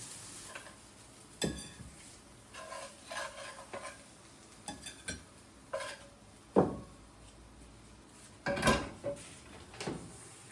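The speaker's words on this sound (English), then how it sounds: "I'm just cooking up the little patties in the pan" Little patties fry in a pan in a Tuscan kitchen, a soft steady sizzle broken by several sharp clanks and scrapes of a utensil against the pan and cookware, close and fairly loud.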